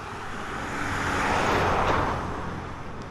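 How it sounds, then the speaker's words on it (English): Steady broadband roar of cars passing on a road outdoors in Innisfail, Australia, swelling as a vehicle draws near and easing off, with no voices. "There's a lot of cars and stuff."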